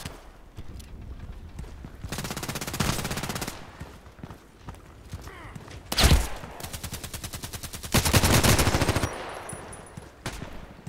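Assault rifle fire in Contract Wars comes in several sharp automatic bursts of rapid, evenly spaced shots, separated by brief quieter gaps, with one heavier blast in the middle.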